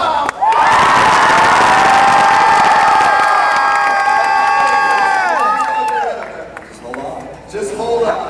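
A loud high school crowd at a live Fear Factor event erupts in sustained cheering, shouting and whooping for a contestant, fading after several seconds as a few voices continue.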